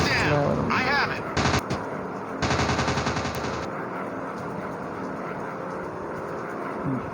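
Fighter plane machine guns firing in a WWII dogfight between US and Japanese air forces, with loud rapid bursts of automatic fire over an aircraft engine drone, a voice speaking at the start.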